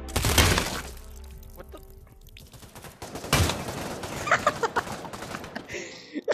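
Gunfire in the VR shooter game Pavlov: sharp bursts of shots and cracking impacts scattered through the clip, several loud and close, mixed with voices talking.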